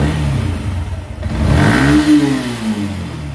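A Yamaha Sniper 150 motorcycle engine fitted with an aftermarket ECU runs close by, idling and then revving up with a rising then falling engine note, loud and alone.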